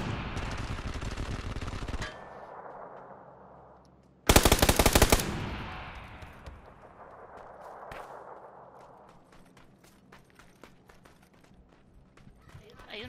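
Loud video game gunfire from a roof-and-building shootout, with a dense automatic burst at the start, then a sharp, very loud volley, followed by scattered single shots and clatter, while players talk over it.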